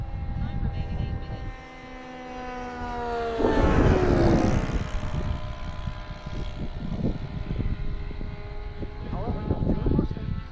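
A model Mustang warbird plane flies past with a droning propeller engine whose pitch slides downward as it passes nearby, swelling louder mid-pass, while people talk over it throughout.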